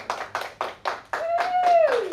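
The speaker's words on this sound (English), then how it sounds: "Give yourselves a round of applause." Group applause after a long wait at Heathrow arrivals, a few short bursts of clapping and then a steady wash of hands, with a sliding tone laid over the later part.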